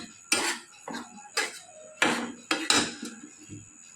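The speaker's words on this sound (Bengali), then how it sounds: "এবার আমি এটার মধ্যে স্ম্যাশটাকে যেটা মেখে নিয়েছিলাম সেটা পুরোটা ভালো করে মিশিয়ে দিচ্ছি।" A spoon scrapes and knocks against a pan while mashed aubergine is stirred in for begun bharta, giving about seven distinct clattering strokes at an uneven rhythm, close and clear with no talking.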